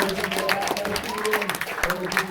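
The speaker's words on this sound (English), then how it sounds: "How about a big round of applause for our world-famous orchestra?" An audience claps for an orchestra during a live stage hypnosis comedy show at a university, with the applause running under voices that talk across the whole moment.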